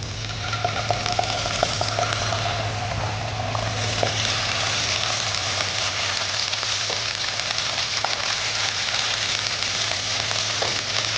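Onions sautéing with ginger garlic paste and curry leaves in a pan for a prawn garlic fry, giving a steady, close sizzle and crackle with a low hum underneath, continuous throughout with no voices.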